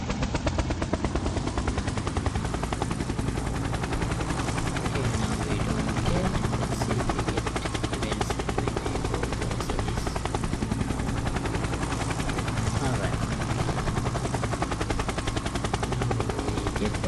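Helicopter rotor in an Unreal Engine simulation, a loud dense continuous thrumming roar with rapid rhythmic chopping that holds unchanged for the whole stretch.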